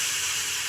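Water spinach (kolmi shak) frying in a pan in a home kitchen, a steady close sizzle and hiss that stays even throughout the short moment.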